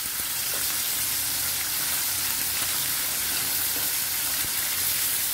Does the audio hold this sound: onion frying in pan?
yes